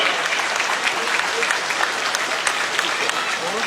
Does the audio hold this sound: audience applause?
yes